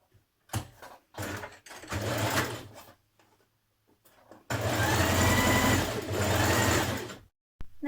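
A sewing machine stitches dress lining pieces together at the shoulder seam in a few short bursts, then one longer loud run of about three seconds, close up and without talk.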